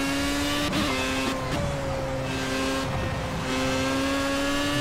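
A Project Cars race car engine holds a steady high drone, with brief dips as gears shift during a fast lap; no voices.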